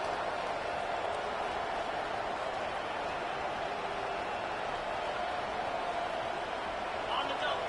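Stadium crowd noise in the NCAA 25 college football video game, a dense, unbroken roar of a large crowd filling the whole clip at steady loudness.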